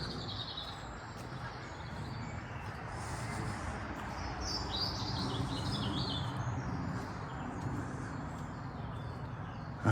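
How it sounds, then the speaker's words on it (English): Birdsong drifts through an English ancient woodland of wild garlic and bluebells, several small birds chirping and trilling at moderate distance over a steady low rumble of distant traffic, with no voices. "I hope you're enjoying that bird song as well."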